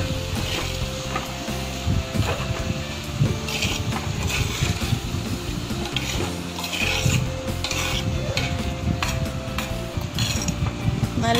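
A spoon stirs salted beef in a clay pot in steady, continuous scraping and rubbing strokes, close by and without talk.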